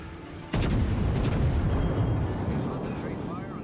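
Main guns of the Tier 4 battleship Wyoming fire in a naval battle video game: one sudden loud boom, then a long rolling rumble that slowly fades.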